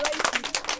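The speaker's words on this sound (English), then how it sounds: "Clap for her." An audience claps at a village gathering, a quick cluster of bright hand claps lasting under a second, fairly close, with a voice briefly mixed in.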